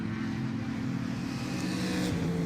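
A race car engine idles at an endurance race at New Jersey Motorsports Park, a steady low drone that holds evenly throughout with no voices.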